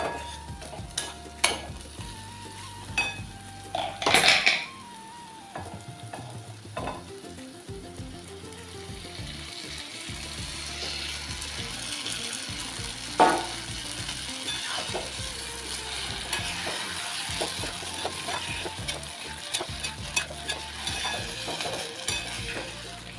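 Smashed vegetables for street-style bread bajji fry in a pan while being stirred, a continuous soft sizzle broken by occasional clinks of a spoon against the metal.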